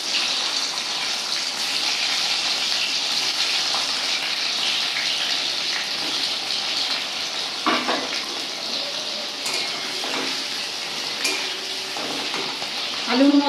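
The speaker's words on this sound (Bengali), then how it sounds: "ওই বেরেস্তার তেলে এবার আমি আলুগুলোকে লাল করে ভেজে নেব।" Potatoes frying in hot oil left from fried onions, a steady loud sizzle throughout with occasional stirring clatter and a voice speaking faintly underneath.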